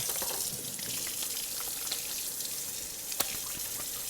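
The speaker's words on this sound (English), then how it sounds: "Let me wash my hands." Tap water runs in a steady, continuous stream as hands are washed at a kitchen sink while baking snickerdoodles, close by with no one talking.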